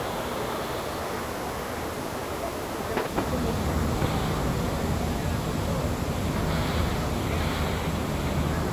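A public water fountain in Barcelona splashing and rushing outdoors, a broad continuous wash of falling water heard at some distance, steady and fairly loud, with wind buffeting the microphone.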